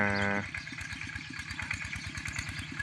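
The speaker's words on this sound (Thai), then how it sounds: "ได้ยินเสียงรถไถก็เลยตื่นพี่น้อง" A tractor engine runs steadily before dawn in a rural Thai village, a close, continuous mid-pitched chug after a brief louder start, with no talk.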